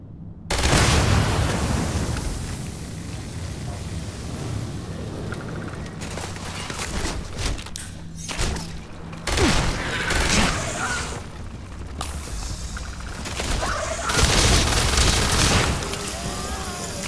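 Gunfire in the video game Starfield, repeated bursts of shots and booms in clustered volleys with short pauses between, loud and close throughout.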